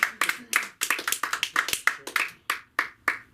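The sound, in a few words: audience applause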